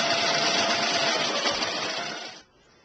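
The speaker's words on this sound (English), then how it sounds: "I will hold in here so the material doesn't move, and just keep sewing all the way down." Sewing machine running steadily while stitching a maxi dress seam, a continuous loud motor whir with rapid needle chatter that stops abruptly near the end, leaving a faint hum.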